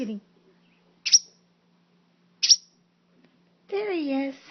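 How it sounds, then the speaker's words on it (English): A newly fledged baby bird gives two short, high chirps spaced about a second apart, close and faint. A person's voice follows at the end. "Brand new baby bird."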